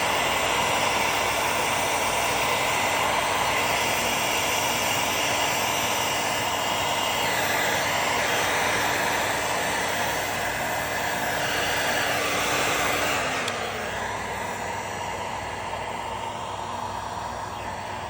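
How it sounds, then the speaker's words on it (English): Heat gun blowing steadily for a long stretch during a fluoro sparkle colour craft session, a loud continuous whooshing roar that shifts slightly in tone near the end as it keeps running. "I think I'll get the heat gun"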